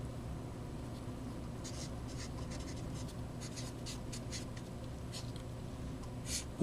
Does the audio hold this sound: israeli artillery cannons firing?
no